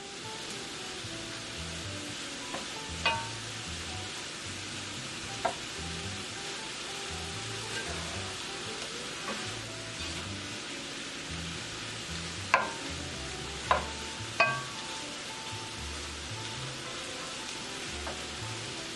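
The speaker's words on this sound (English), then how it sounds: "allowing my shrimps to come in contact, direct contact with the heat from the frying pan" A steady, quiet sizzle of shrimp frying in a pan for a shrimp and sausage vegetable stir fry, with a few soft clinks and taps scattered throughout.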